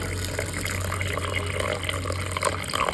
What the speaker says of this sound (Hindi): अब मैं क्या करूँगी कि इसको पहले पानी डालकर 1 या 2 वॉश से इसको अच्छे से धो लूँगी